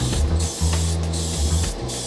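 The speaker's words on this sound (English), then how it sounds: "I spray the entire hood" A spray gun hisses loudly in close, steady bursts, spraying clear coat over a car hood in a paint booth, with brief pauses between passes and a low mechanical hum underneath.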